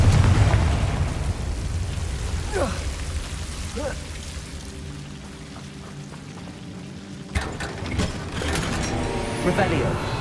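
A Confringo blasting spell in the Hogwarts Legacy video game sets off explosive bursts, with sharp crackling impacts late in the stretch over dense game ambience that sounds like rumbling rain.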